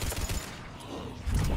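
Gunfire in the video game Mass Effect 3: a loud, dense burst of rapid shots with rumbling low impacts, fading briefly before a heavier blast at the end, with no talking.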